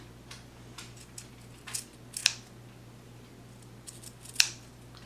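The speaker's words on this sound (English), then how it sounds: "And you just cut along this line." Scissors snip through fabric for a homemade tote bag, with a few quiet cutting strokes and two sharper, louder snips standing out against a faint background hum.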